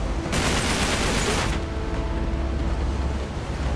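Enemy gunfire in Uncharted 3: Drake's Deception comes as a dense, loud burst of rapid shots lasting about a second, then gives way to a lingering low rumble of ambient noise.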